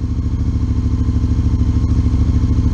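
A Triumph T7 motorcycle engine idles while warming up after an O2 sensor delete, a loud, close, steady rapid thumping putter with slight clatter and no revving.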